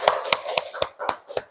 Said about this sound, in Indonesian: Beri tepuk tangan untuk kelompok 2.